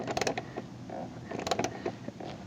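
Ratchet tightening a nut on a Crusader rock slider bolted to a Jeep JL Wrangler, giving bursts of close, dry creaking clicks in two short clusters with quieter rasping between.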